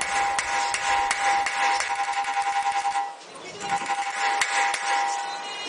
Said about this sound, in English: Use a staked punch to unstake the axle nut.